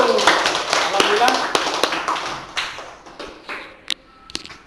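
Children in a lesson about qurban and aqiqah animal slaughter clap their hands in a loose burst of sharp, uneven claps that thin out and fade, with a few late stray claps and voices in the background.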